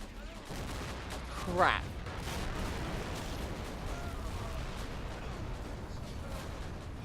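Heavy WW1 artillery fire in a Great War video game battle on the Western Front: one loud close blast near the start, then a dense steady rumble of distant guns, with a voice exclaiming briefly.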